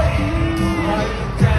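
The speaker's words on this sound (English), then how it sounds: "I literally just screamed the living life out of my lungs." Loud, dense crowd roar at a concert in London, with yells and whoops from fans blending into a constant wall of screaming; a sharper shout rises near the end.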